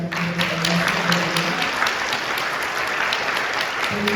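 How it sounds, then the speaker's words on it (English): Audience applause for campesinos and farm workers at a community plenary on Latino climate justice, a dense, steady roar of many hands clapping that holds near and loud for the whole stretch, with faint voices underneath. "I also want to give a round of applause for campesinos and farm workers."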